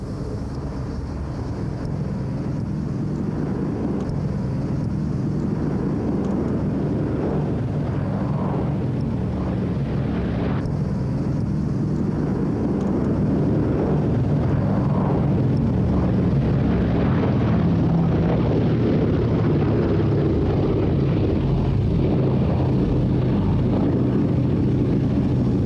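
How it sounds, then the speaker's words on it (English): Sally B, a vintage aircraft, flying an airshow display, a loud continuous engine drone rising and falling as it passes, with heavy wind buffeting on the microphone and no talking. "Always a favourite at airshows, this immaculate display was flown by Sally B's chief pilot, Keith Sissons."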